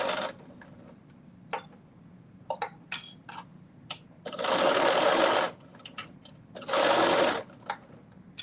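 A sewing machine stitches fabric in two loud, even runs of about a second each, separated by clicks and small handling taps.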